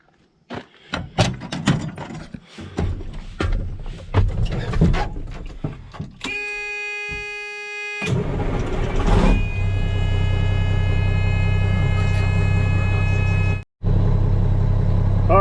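An old truck hauling a lowboy trailer starts up: clattering knocks and handling noises give way to a whining starter tone for a couple of seconds, then the diesel engine catches and settles into a loud, steady idle with one brief dropout.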